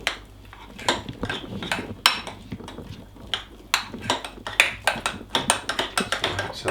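A spoon scrapes and clinks against a container while stirring a thick banana casein protein shake, giving an uneven run of close, sharp taps and knocks.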